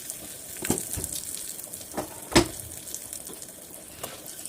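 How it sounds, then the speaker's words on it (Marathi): Asafoetida, two red chillies and curry leaves sizzle in hot tempering oil for coconut chutney, with the gas turned off. A soft, steady crackle carries scattered sharp pops, one louder burst midway, and no voices. "ते तडतडू लागल्यावर गॅस बंद करायचं आहे. त्याच्यामध्ये हिंग घालायचं आहे."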